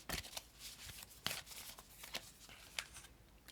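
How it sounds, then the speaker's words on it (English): An oracle card deck is shuffled by hand before a card is pulled, giving quiet, close riffling and flicking bursts in an uneven rhythm, with no talking. "Let's pull a card from the Lover's Oracle and see what the overall message is."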